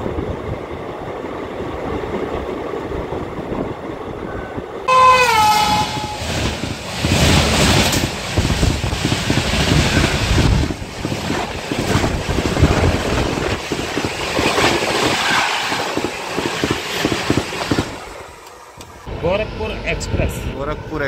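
A passenger summer special train between Jaipur and Ratlam runs on rails in Madhya Pradesh, giving a steady loud rumble and rattle with wind rush, a brief high squeal near the start, then a sudden drop before the noise returns.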